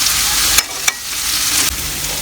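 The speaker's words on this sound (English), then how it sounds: "Add the chicken to the pot." Chicken pieces hit a hot cooking pot with a loud, steady sizzle and hiss, broken by a few sharp clatters as more meat drops in. The sizzle stays bright and close throughout, with no talking.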